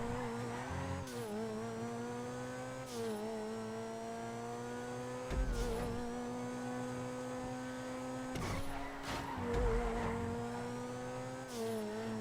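A car driven in the GTA video game, its engine droning with steady tonal whine that rises and falls as it accelerates and shifts, with occasional bumps and thumps, moderately quiet and without speech.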